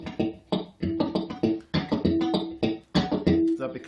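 Electric guitar fingerpicked with the thumb thumping the bass strings, a series of punchy plucked notes and chords in a loose rhythm, close and clean without amplification.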